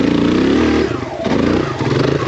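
A dirt bike engine revs hard on a steep wooded climb during a wheelie, loud and close, then dips and surges again in rough bursts.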